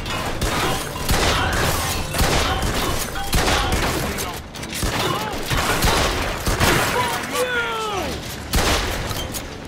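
Repeated gunfire from Mafia 2 Definitive Edition, a dense fusillade of loud bursts through most of the stretch, with game voices and whistling tones threading through the shots.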